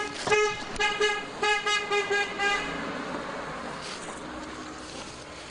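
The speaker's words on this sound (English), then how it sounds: "Here comes car." A car approaches along a dark road at night near Crybaby Bridge, giving a quick run of short horn toots before its engine settles into a rushing roadway rumble that fades away.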